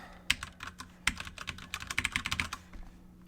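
Fingers tap out entries on a computer keyboard while filling in a Google account sign-up form, a fast irregular run of close, crisp key clicks with brief pauses and no talk.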